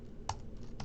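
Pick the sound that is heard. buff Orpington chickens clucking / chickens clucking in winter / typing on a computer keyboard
typing on a computer keyboard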